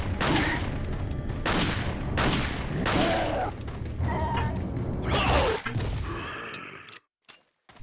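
Gunfire rattles through a Resident Evil 4 (2005) mine-cart stage, a string of loud shots and impacts with crashing game effects, then a brief silence followed by faint clicks at the end.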